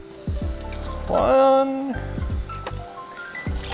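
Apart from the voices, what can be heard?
water being poured into the herring brine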